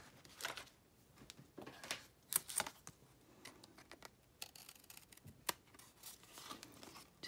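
Scissors snip excess ribbon from the edges of a handmade clutch-purse note card holder, quiet close-up cuts and paper rustles spread irregularly across the clip.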